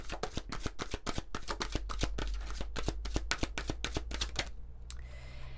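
Oracle cards from an incarnation deck are shuffled close by in a fast, even riffle of crisp clicks that ends abruptly, followed by a quiet stretch.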